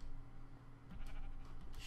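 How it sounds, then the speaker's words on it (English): A sheep in the Minecraft video game gives short bleats, a couple of quick nasal calls over a faint game background. "Shut up, sheep, I'll kill you"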